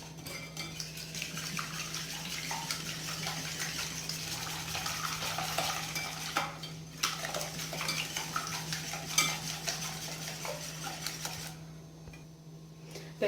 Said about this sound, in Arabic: ندير 2 فانيلات، ونطرب هذا البيض مزيان.